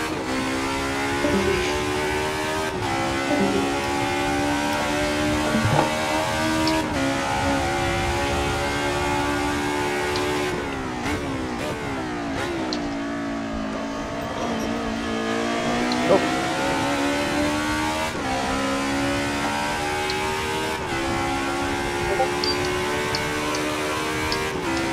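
Engines of 1990s DTM touring race cars in a racing video game, set on a circuit in Austria, snarl continuously with repeated rising revs and sharp gear-change dips, occasional tyre squeal, and a player talking over the noise.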